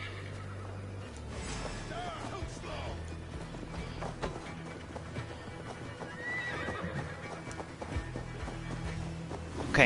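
A horse in Assassin's Creed Valhalla neighs and its hooves clop over a busy game soundscape, with a voice talking through it.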